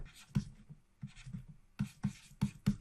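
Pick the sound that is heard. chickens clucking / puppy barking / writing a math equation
writing a math equation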